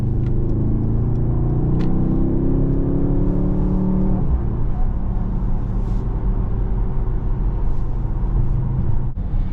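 A 2026 Mercedes GLE 63 S AMG in race mode driving on the German Autobahn, heard from inside as a loud, steady engine drone with rising gear tones, then a shift and continued deep rumble with road and wind noise.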